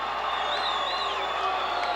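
A professional wrestling arena crowd cheers and whoops for Jimmy Superfly Snuka at a 1984 televised event, a steady loud roar filling the hall with high whistles rising over it.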